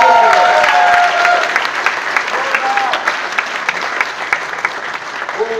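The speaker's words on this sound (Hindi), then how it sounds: "ये कपल के बारे में मैं जोरदार क्लैप जाऊंगा" An audience applauds a couple at an event, with loud, dense clapping from a crowd that swells at first and then settles into steady, slightly thinning applause.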